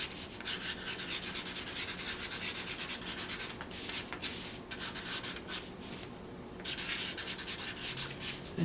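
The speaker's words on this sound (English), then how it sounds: "And keep on writing." Pencil or pen scratching steadily across a paper page, continuous rubbing strokes with brief pauses, close and fairly quiet, no talking.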